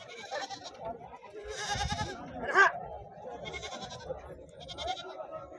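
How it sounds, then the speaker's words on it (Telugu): Several large black billy goats bleat in turn, four or five loud, wavering calls spread across a few seconds, fairly close, at a market. "అన్ని నల్ల మేకపోతులు, పెద్ద సైజు పోతులు ఉన్నాయి"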